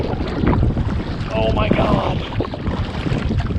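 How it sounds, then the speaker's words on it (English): Strong wind roars and buffets the microphone out on open water during a kayaking trip, a constant loud rushing with faint water sounds beneath and a brief spoken exclamation. "It's a little bit breezy, little bit windy."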